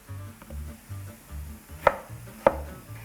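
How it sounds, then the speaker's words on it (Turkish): A knife chops onion into thick pieces on a cutting board in a steady rhythm of low thuds, closing with two sharper, louder knocks near the end; close and clear, no voices. "1 iri soğan yeter. Kalın kalın kesiyorum."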